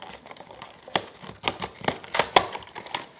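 Plastic packaging of a Yu-Gi-Oh Cyber Dragon structure deck being torn and opened by hand, giving a close run of crisp crackles and sharp snaps that grow denser toward the end.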